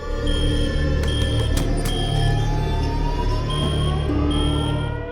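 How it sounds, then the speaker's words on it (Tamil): A steady electronic hotel alarm sounds continuously with sustained high tones, loud throughout, over a low background hum. "எதுக்கு அலாரம் அடிச்சிட்டு இருக்கு?"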